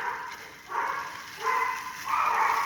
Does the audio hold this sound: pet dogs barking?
yes